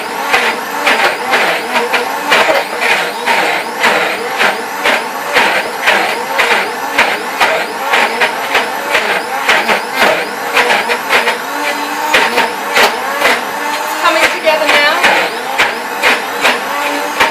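An Optimum 9200 blender on high speed churns raw cherry and cocoa ice cream, a loud, dense whirring roar with rhythmic surging pulses as the mix is worked, steady and close throughout.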